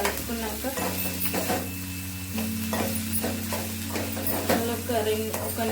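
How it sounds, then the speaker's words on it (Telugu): Egg curry with turmeric in a pan, a steady sizzle of frying under repeated scraping stir strokes of a spoon against the pan, close and fairly quiet. "పసుపు వేసిన తర్వాత మంచిగా కలుపుకున్నాక"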